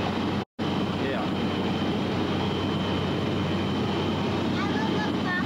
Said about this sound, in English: We're about to take off. There's no one else on the aeroplane